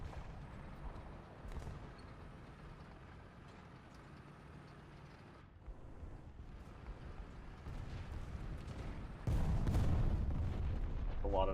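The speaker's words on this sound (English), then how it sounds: "A lot of explosions." Heavy explosions roar through a War Thunder tank battle, a dense, continuous rumble of blasts and booms with a sharper, louder burst near the end.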